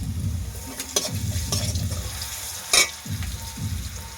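Garlic paste frying with fried onions in a pan, a low sizzle broken by repeated scraping strokes of a spatula and a few sharp clinks of metal, close, with no talking.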